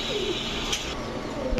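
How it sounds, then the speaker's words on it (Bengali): A large local Sirazi pigeon gives a brief, soft coo nearby, just a single short call. "এই আর একটা জোড়া, টোটাল 2 জোড়া, 1 জোড়া না 2 জোড়া সিরাজি কবুতর।"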